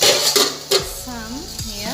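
A metal pot lid lifts off a pan of cooking bottle gourd leaf greens curry, with a couple of clattering clinks near the start, then a soft bubbling simmer and stirring close by.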